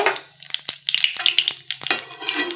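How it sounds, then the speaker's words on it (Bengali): Nigella seeds crackle and sizzle as they drop into leftover oil from frying fish, with sharp close pops and utensil taps over a steady hiss, heard alone without talk. "এখন এই যে তেলে ওই মাছ ভাজার তেলেই এখন এই যে কালো জিরা ফোড়নে দিচ্ছি"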